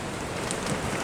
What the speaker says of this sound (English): Peeing with rain, wind is horrendous.